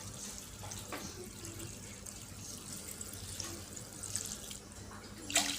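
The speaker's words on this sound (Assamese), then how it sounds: "ইয়াত মই পানী দি দিম অলপ" Water poured into a pot for boiling chowmein, a faint, steady splashing trickle close by with a small louder splash at the end.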